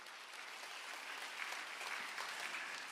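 A church congregation at a Friday worship service claps in a soft, continuous wash, heard faintly and at a distance.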